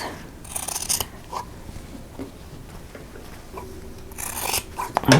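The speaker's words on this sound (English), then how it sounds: "I want to cut off the outer corner, leaving a 1/4 inch seam allowance" Scissors snip the corners off sewn fabric squares for a pillow cover, a few close, crisp cuts with rustling of cloth between them and a sharper flurry of snips at the end.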